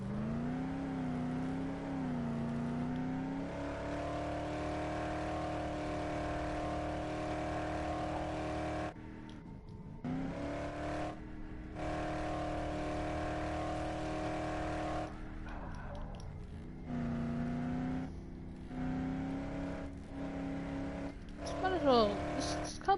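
A car's engine drones steadily in a zombie video game, rising and falling in pitch as it accelerates and shifts, with brief cut-outs. Someone talks over it.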